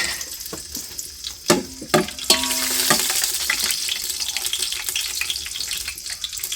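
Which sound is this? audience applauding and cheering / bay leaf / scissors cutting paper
bay leaf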